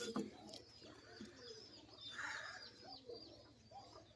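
Soft cooing from high-flying Giribaz pigeons of Rajshahi, including a female nesting on eggs. Low, murmuring coos fill the clip at a faint level, with small bird calls over a steady background hum.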